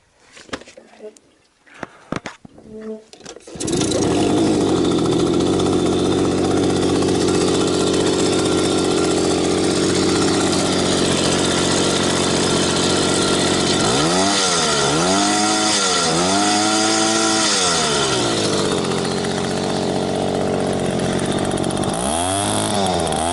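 A Verkhovyna moped engine fitted with ignition from a brush cutter, with sputtering attempts before it catches, then runs steadily and loud, with the revs rising and falling in several swoops.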